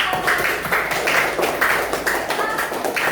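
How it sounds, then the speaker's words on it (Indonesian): Children clap together in a classroom at the end of a coding and artificial intelligence lesson, producing a steady patter of light, fairly close hand claps that runs for about three seconds with no speech over it. "Tepuk tangan buat kita semua."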